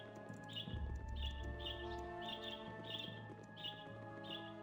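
Falcon cries in the video game Baldur's Gate, a series of about seven short, high, piercing calls repeating at a steady pace over a low hum of game ambience and music.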